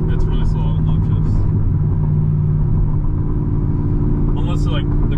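A modified 2008 Chevrolet Corvette's naturally aspirated V8 rumbles in a deep, loud, steady drone from inside the moving car, with people talking over the engine.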